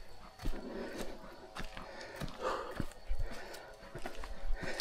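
Horses walk along a steep trail, their hooves clip-clopping in irregular, uneven steps under outdoor ambience, with no clear talk.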